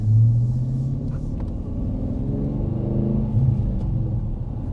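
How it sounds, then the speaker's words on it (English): A 2022 Dodge Challenger with a six-speed manual cruises along the road, its engine and tyres making a steady, loud low rumble with slight swells and no talking. "getting on the road in our Dodge Challenger."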